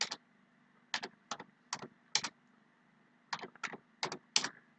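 Computer keyboard typing in short bursts of several quick keystrokes separated by brief pauses, close and clear over a faint steady hum, with no talking.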